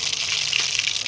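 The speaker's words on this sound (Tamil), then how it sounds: "கடுகு போட்டுக்கலாம்." Mustard seeds dropped into hot oil for a village-style fish curry, giving a brief, bright, continuous sizzle and crackle at close range.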